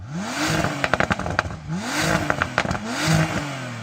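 A Bentley GT engine revving hard three times in a row, each rise and fall of pitch broken by crackling pops from the exhaust, loud and close.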